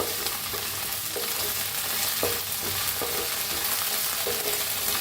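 Onion browning in a pan with ginger-garlic paste, an even sizzle running throughout while a spoon scrapes and stirs at irregular intervals, close and steady with no talking.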